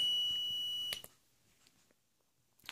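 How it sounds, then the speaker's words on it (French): A steady electronic buzzer tone from an alarm repeater panel sounds for about a second and cuts off, followed by faint clicks and quiet handling noises. "on a le buzzer qui fonctionne, donc on voit qu'on entend que le buzzer fonctionne"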